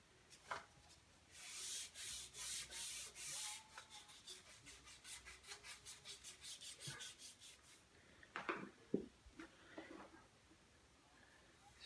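Sandpaper at 220 grit rubs across a wooden Sheridan Blue Streak rifle stock in quiet, rhythmic back-and-forth strokes, fading to lighter scuffs and handling noises near the end.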